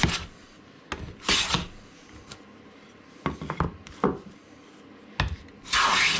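Cupped ebony-alternative wood board being flattened by hand, with bursts of rasping rubbing strokes in irregular groups separated by pauses, close and fairly loud with a hissy scraping texture.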